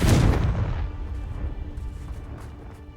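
A Confringo fire spell goes off in the Hogwarts Legacy game with a single heavy boom that hits at the start and then rolls away into a fading rumble. No voices sound over it.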